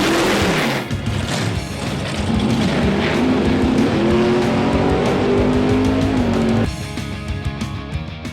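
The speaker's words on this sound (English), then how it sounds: "1964 Falcon Sprint gasser. It's got a 462 big block Chev with a trans brake power glide" A 1964 Falcon Sprint gasser with a 462 big block Chevy engine and Powerglide transmission roars loudly and continuously, the engine pitch climbing through the run before the roar cuts off abruptly near the end.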